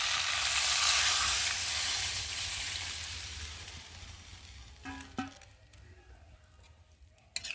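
Potato curry (alur dom) sizzles loudly in a pan as water is added and it is stirred with a spatula. The frying hiss fades, and a few scraping clicks come near the end.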